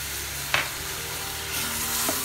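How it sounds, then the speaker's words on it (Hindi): Tomato and green chilli paste with ginger frying in ghee for a dhaba-style black masoor dal, giving a steady sizzle with a couple of brief stirring scrapes. "अब हम इसे थोड़ी देर भून लेंगे इसे तब तक भूनना है जब तक मसाले घी ना छोड़ दें"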